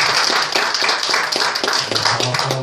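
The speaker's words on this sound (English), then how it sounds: "Give the Lord a hand" Church congregation clapping their hands together in a quick run of loud, close claps, with a faint murmur of voices underneath toward the end.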